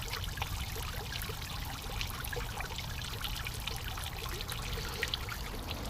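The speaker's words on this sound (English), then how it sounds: "harvest some of this fish pond water for the added nutrient by dipping my watering can in there" Steady splashing and trickling water as a watering can is dipped into a fish pond and pours, continuous and close throughout.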